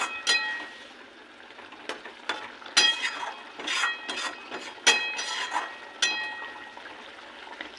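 Tilapia pieces slide into boiling yogurt curry gravy, which keeps simmering with soft bubbling and sizzle, punctuated by scattered metallic clinks of a utensil against the pan, close and moderately quiet with no talking.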